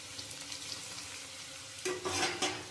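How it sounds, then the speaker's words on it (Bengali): Ground cumin, coriander, chili powder and salt go into hot oil with browned onions for a small-fish curry. A soft, low sizzle carries throughout, with a louder hiss and stirring scrapes near the end. No one speaks. "এবার আমি মশলাগুলো দিয়ে দেবো। জিরের গুঁড়ো, ধনের গুঁড়ো, লঙ্কার গুঁড়ো আর নুন।"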